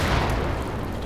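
A shell striking an M10 tank destroyer in the side and engine in the wartime Normandy game Combat Mission, a brief loud low boom with a dull rumbling tail.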